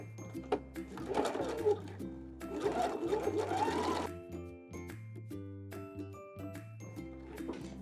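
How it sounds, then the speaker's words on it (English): A domestic sewing machine stitches fabric down to a chalk mark, its motor running in close, steady bursts with a rhythmic needle hum, separated by short pauses and light clicks, with no talk. "And we are gonna sew all the way down to that chalk mark."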